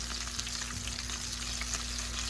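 Frog legs fry in hot oil in a pot, a steady sizzle and crackle, a dense, continuous frying hiss close by with no voices.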